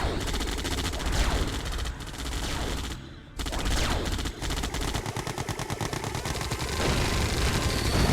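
Elite gatling tanks in Red Alert 2: Yuri's Revenge fire loud, rapid, continuous rattling bursts, dense and sustained with one brief pause midway.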